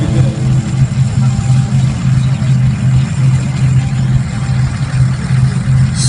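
A 2800 diesel horsepower pulling tractor, the Smoking Devil, at a tractor pulling event in Edewecht, gives off a deep, loud, steady engine drone with a pulsing low throb, while an announcer talks over it.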